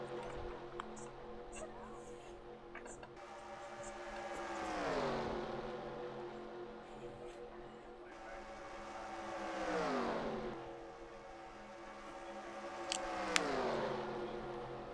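Stock cars in an oval racing video game pass by in repeated waves, each engine whine rising as it nears and dropping in pitch as it speeds away, roughly every five seconds against a steady background hum.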